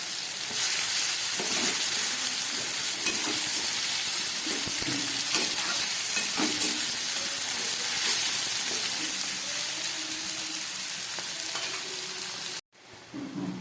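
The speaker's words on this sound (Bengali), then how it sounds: "পেঁয়াজটা আমার অনেকটা ভাজা হয়ে গেছে।" Onions sizzle steadily in a hot pan for a long stretch, with occasional scraping from stirring; the sound drops out abruptly near the end.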